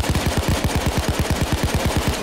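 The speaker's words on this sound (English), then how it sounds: "They're shooting at me!" Rapid automatic gunfire in Payday 2, a loud, close, steady burst of evenly spaced shots running without pause, with no talking.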